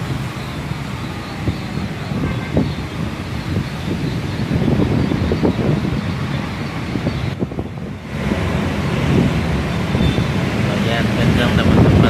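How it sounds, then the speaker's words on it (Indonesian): Strong gusty wind blowing in Jakarta during a storm, a loud steady roar with buffeting microphone rumble throughout, briefly dropping away for a moment near the middle before returning. "Biasanya nih anginnya lagi kencang sekali hari ini."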